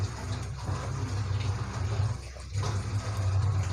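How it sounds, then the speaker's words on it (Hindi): Water poured from close by into a bowl of two cups of gram flour (besan), a steady trickling, splashing stream with a brief dip midway, no talking. "और अब मैं इसके अंदर पानी डालूँगी थोड़ा सा"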